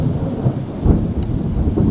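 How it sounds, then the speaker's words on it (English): Steady thunderstorm rain drums outside a garage, a dense continuous wash of rainfall with a low rumble of thunder swelling underneath, loud and close throughout with no voices. "There's a bit of a thunderstorm going on, so I thought I'd hang out in the garage and listen to the rain"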